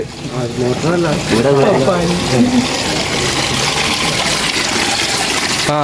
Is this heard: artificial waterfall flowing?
yes